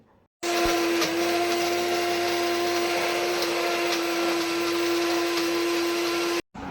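A mixer grinder whirs at full speed, grinding mustard seeds together with coconut into a paste. A loud, steady motor whine runs for about six seconds, then cuts off abruptly.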